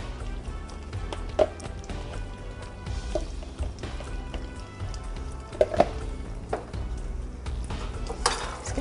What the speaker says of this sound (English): Let's get this all stirred in.